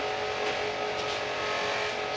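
A fan inside a workshop makes a loud, steady whirring roar, continuous and fairly close, with no break across the moment and no one talking.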